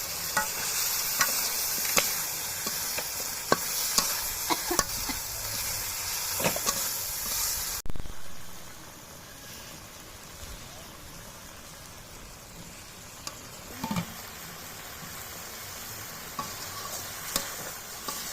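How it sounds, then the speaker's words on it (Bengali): Washed, cut gorai fish pieces drop into a pan of sizzling spiced masala. A loud, close hiss with stirring scrapes fills the first half, then settles to a softer, steady simmering crackle. No one speaks. "এখন আমি কেটে ধুয়ে রাখা মাছগুলো দিয়ে দিচ্ছি।"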